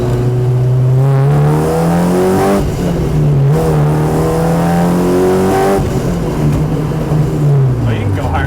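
A K-swapped Honda Civic revs hard under acceleration, the loud engine note climbing steeply through the gears with brief drops between shifts, close and continuous throughout.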